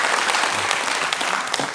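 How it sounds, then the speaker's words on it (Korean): A church congregation at a Sunday morning service claps loudly to welcome new members, a dense, continuous burst of applause filling the room for a couple of seconds. "인사할 때 큰 박수로 여러분 환영해 주시길 바랍니다."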